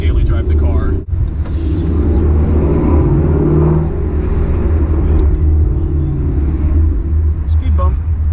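A Corsa Xtreme catback exhaust on a car being driven rumbles deep and steady throughout, loud and close inside the cabin, with someone talking over the drone.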